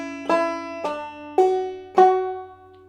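Four plucked clawhammer banjo notes ring out one after another at a steady pace, some with a quick hammered-on second pitch, close and alone.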